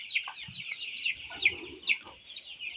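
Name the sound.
native Bangladeshi chicken chicks cheeping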